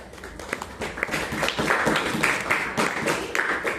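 A classroom group claps in a brief round of applause for a mathematics class, a dense patter of hands holding steady for a few seconds.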